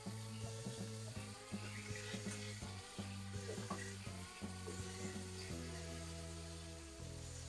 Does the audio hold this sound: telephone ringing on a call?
no